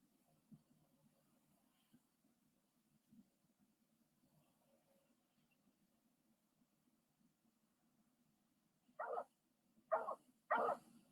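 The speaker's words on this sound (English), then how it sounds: "dog barking" A dog barks three times in quick succession near the end, loud and close. The barks follow a long stretch of near silence with only a faint low hum and a few soft knocks.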